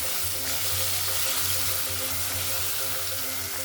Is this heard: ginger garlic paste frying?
yes